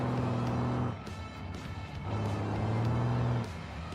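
Truck driving in the BeamNG game, a steady low engine drone with tonal hum that drops and returns as the throttle changes, mid-distance and continuous throughout.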